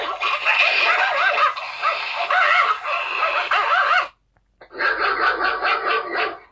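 Recorded dog-fight sounds played from a phone app: dogs bark and snarl aggressively in a loud, rapid tangle of growls and yaps, broken by a brief pause before more barking.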